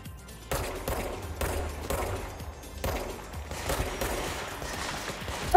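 Gunfire in the video game Control comes in several separate automatic bursts, fairly close and moderately loud, with short quieter gaps between volleys and no talking.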